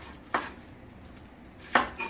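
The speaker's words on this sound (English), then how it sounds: "I am going to cut my onion." A knife cuts through an onion on a board, giving two distinct chopping thuds about a second and a half apart, close and clear with nothing else but faint room noise.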